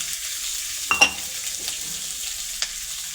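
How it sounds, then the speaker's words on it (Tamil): Onions and green chilies sauté in a pan for coriander chutney, a soft steady sizzle with a couple of brief stirring scrapes and clinks, close and quiet, with no voices. "சட்னி நல்லா வதங்கட்டும். வெங்காயமும் பச்சை மிளகாயும்"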